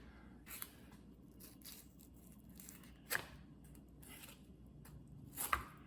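Knife work on a freshly caught ocean fish packed on ice, with a few soft wet cuts and slicing strokes at close range, low and quiet against a steady background.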